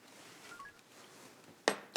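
A telephone number is dialed: two short, sharp button presses near the end, after a quiet stretch of low room tone.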